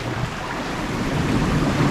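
Sea waves washing against concrete sea walls on the Greek coast, a steady, close wash of water with wind rumble on the microphone.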